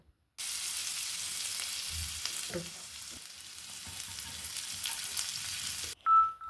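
Loud, steady sizzling of chili and ginger frying in a pan, with a few stirring scrapes, ending abruptly with a brief beep.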